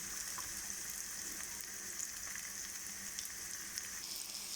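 Onions softening gently in a pan give a faint, even hiss of frying with a few soft pops, low and unbroken throughout.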